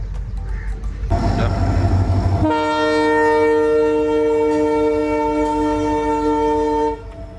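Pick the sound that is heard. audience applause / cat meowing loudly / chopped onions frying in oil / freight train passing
freight train passing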